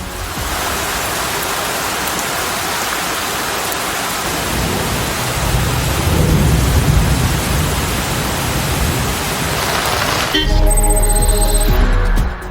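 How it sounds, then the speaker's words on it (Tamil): Heavy rain with thunder pours over a hill region, a dense, steady broadband roar that swells with low rumbling toward the end, with no voices present. "இடியுடன் கூடிய கனமழை பெய்தது"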